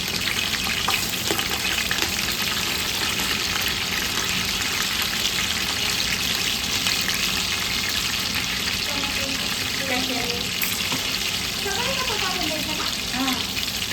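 Chili and ginger-garlic paste sizzling in a hot pan for biryani, a loud continuous frying hiss with occasional stirring, while people talk in the background.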